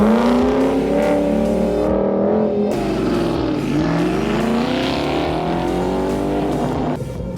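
A supercharged race car with a blower roars loudly at a drag strip, its engine revving hard and sweeping in pitch, with a brief drop in the middle and a fading tail at the end.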